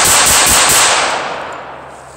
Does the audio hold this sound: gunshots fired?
yes